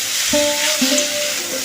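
Small mourola fish sizzling steadily in hot oil while being cooked with Malabar spinach leaves for a curry, a continuous bright hiss with a faint tonal whine running through it.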